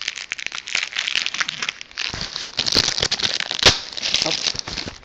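Plastic packaging of a Roccat Kova+ gaming mouse and its mouse pad crinkles and crackles as it is torn open up close, with steady rustling and sharper crunches throughout.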